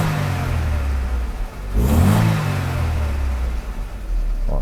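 Car engine idling loudly up close, then rising in a brief rev as the throttle is pressed before settling back to a steady idle.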